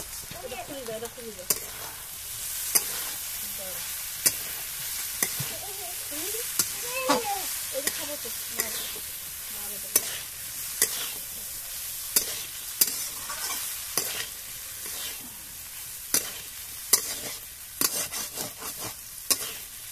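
Pasta is stirred and fried in a pan for a spicy egg and vegetable dish. A low sizzle runs underneath while sharp scraping and clacking strokes from the utensil come irregularly. Faint brief tonal sounds appear early on.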